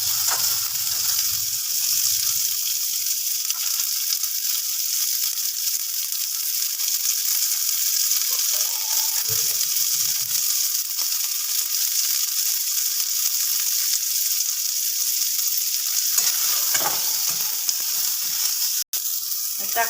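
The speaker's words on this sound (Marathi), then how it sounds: "कांदा लाल होऊन गेला।" Onions fry in hot oil for a spicy misal pav masala, giving a steady, close sizzle with a few stirring scrapes throughout.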